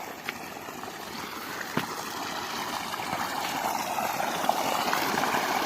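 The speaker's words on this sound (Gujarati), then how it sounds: "પાણી પણ ચાલુ થઈ ગયું છે આપણા ઘેઉમાં" Irrigation water flows steadily through a field channel in a wheat field, a continuous rushing hiss growing slightly louder, with a few faint clicks and no talking.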